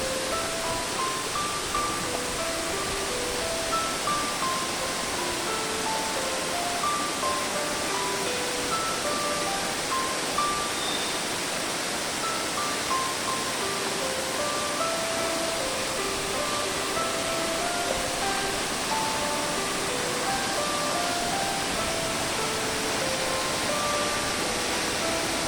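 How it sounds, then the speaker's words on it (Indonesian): Manikmoyo waterfall with clear, cold water pouring steadily, a dense continuous rush of falling water heard close and fairly loud, unbroken for the whole stretch with no voices. "Yuk kita kembali lagi ke arah aliran sungai dan melihat kembali air terjun yang begitu indah"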